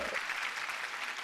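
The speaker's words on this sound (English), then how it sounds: "Get a round of applause for Nick Allegretti" A short, steady wash of crowd applause, like a canned clap effect on a sports radio show, continuous and fairly faint over about a second.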